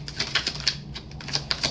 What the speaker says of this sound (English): no matter how much I'm shuffling this deck